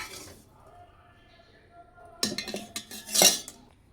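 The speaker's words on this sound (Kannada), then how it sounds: "ಬನ್ನಿ ಎಲ್ಲ ಮಿಕ್ಸಿ ಜಾರ್ಗೆ ಎಕ್ಸ್ಚೇಂಜ್ ಮಾಡೋಣ." Cooked spinach being scooped into a mixer jar in a home kitchen: quiet at first, then a cluster of sharp metal spoon scrapes and clinks against the jar, ending in a louder clatter.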